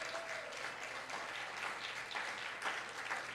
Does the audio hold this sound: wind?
no